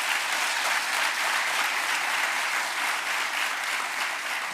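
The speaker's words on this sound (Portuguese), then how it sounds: "a quem peço uma grande salva de palmas" An audience at a swearing-in ceremony for newly elected local council bodies gives a newly elected parish council president sustained applause, a dense, even roar of many clapping hands with no voices over it.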